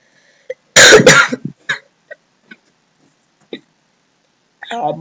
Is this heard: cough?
yes